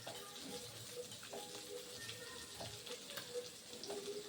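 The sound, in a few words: frying kaul fry, a special dish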